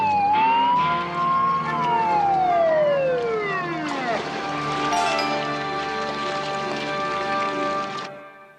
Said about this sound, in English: Why is it I can always tell the sound of Terwilliger's siren?